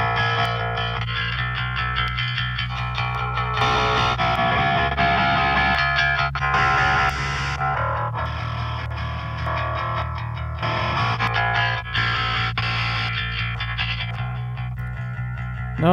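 Heavily distorted pop punk band track playing loud and continuous, with dense fuzzy guitar tone over steady low-end bass and drums throughout.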